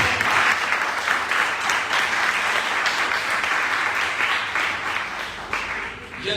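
A church congregation applauds steadily and loudly throughout, a dense, sustained clapping that fills the room and fades slightly near the end.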